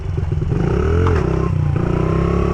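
A motorcycle engine rumbles close and loud, its pitch rising and dropping as the throttle is blipped briefly, with mechanical clatter underneath.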